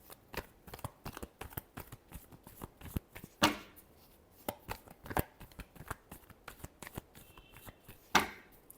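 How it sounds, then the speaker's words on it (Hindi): A deck of tarot cards is shuffled by hand, giving rapid crisp riffling flutters and soft slaps in quick irregular bursts, close and fairly quiet with no talk. "Last shuffle."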